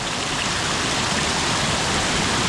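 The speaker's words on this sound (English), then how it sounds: "Water is also running nicely and it's free." A waterfall at Pahamsyiem in Meghalaya pours steadily, a dense, close rushing wash of water that fills the whole moment without pause or voices.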